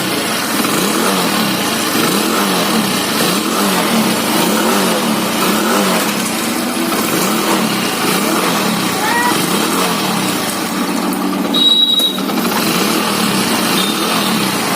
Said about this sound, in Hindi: एक किक में स्टार्ट ले लेगा।